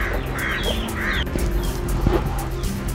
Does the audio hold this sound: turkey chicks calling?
yes